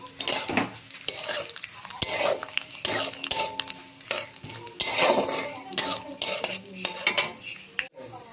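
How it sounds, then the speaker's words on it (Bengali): Grated coconut fries in hot oil in a wok, a soft sizzle under close, busy stirring with a spatula that scrapes and clinks against the metal in irregular bursts. "নারকেলটা ভেজে নেব"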